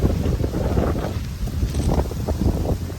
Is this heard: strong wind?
yes